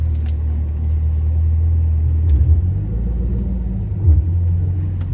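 Rear differential whine from a 5th gen Camaro ZL1 with low or worn differential fluid, a steady low drone under continuous road rumble with slight swells as the car drives. No talking.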